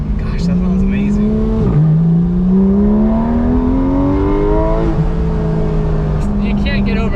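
A loud Porsche GT3 RS engine on stock exhaust revs and climbs through the gears, exhaust note rising and dropping with each shift, close and aggressive.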